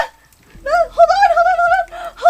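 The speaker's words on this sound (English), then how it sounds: "I'm just looking for the bird!" A bird coos in a long warbling call, close and loud, briefly pausing then resuming at the end.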